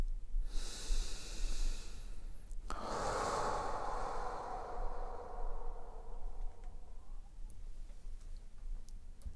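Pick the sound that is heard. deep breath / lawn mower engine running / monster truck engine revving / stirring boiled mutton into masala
deep breath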